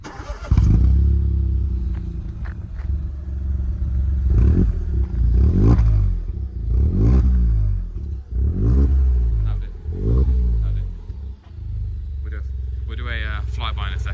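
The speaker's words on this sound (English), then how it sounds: "start up of the car if you want him." A tuned Stage 1 Ford Fiesta 1.0 EcoBoost three-cylinder engine starts and is revved in repeated short blips, loud and close, settling to idle between bursts, with people talking over it.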